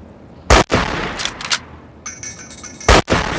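Missile and gunfire explosions in the video game Fallout 3, with two sharp, loud blasts roughly two seconds apart, separated by rumbling and crackling debris and a brief metallic ring.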